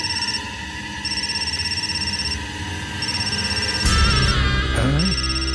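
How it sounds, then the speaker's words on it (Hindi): A phone rings with a repeating electronic tone, pausing between bursts, while a voice and some rustling noise come in near the end, in a South Indian action film. "इसके बेटे का फोन है।"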